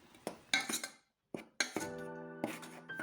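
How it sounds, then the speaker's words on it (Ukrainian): A spoon clinks and scrapes against a bowl while stirring chocolate-banana cake batter, in short irregular bursts with a brief pause, close by and fairly loud. "Все ретельно вимішуємо."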